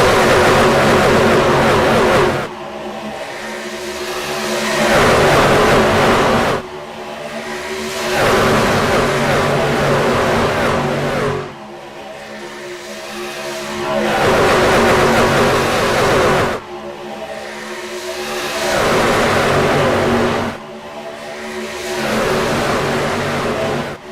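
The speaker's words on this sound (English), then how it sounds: "A sample of what those trucks sound like, all stacked up like sardines in a pack." C.O.P.S. racing trucks on the Atlanta Motor Speedway oval, packed tightly together, roar past in repeated loud waves that swell and cut off every few seconds, with deep engine drone filling the track between passes.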